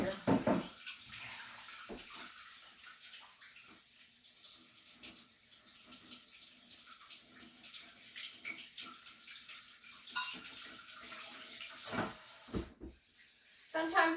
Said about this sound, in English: let me get some warm water